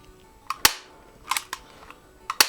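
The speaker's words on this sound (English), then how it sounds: "These staple guns are entirely capable of shooting a staple through the air" A staple gun snaps off staples in sharp, loud cracks, each with a faint click before it, spread over a few seconds.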